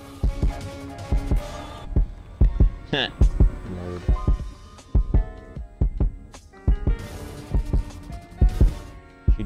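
Heartbeat effect in a video game, with rhythmic low thumps pulsing at a steady pace alongside game music and occasional talk from players.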